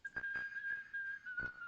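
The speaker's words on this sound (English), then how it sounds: "Next, we have whistling." A steady, clear human whistle holding one pitch for well over a second, with a few soft breathy puffs of air near the start and end.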